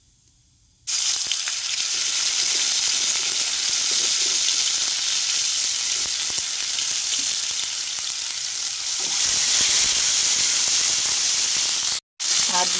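Ginger paste hits hot oil with panch phoron and erupts into a loud, continuous sizzle close by. The sizzle swells louder near the end, then cuts off abruptly for a moment.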